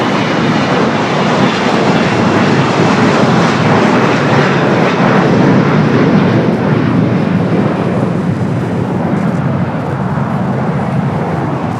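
An ITA Airways aircraft pushing back at LAX fills the air with a loud, unbroken wash of engine rumble and roar that stays even throughout and fades slightly near the end.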